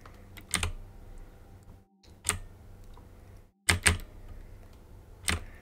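Computer keyboard keys are pressed in quick bursts of sharp clicks, several sets of rapid taps separated by short pauses, close and clear with no voices, during play of a thief simulator game.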